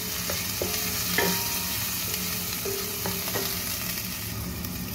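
Garlic and onion sautéing in hot oil in a pan, a steady close sizzle with scattered scraping spatula strokes against the pan, no talking.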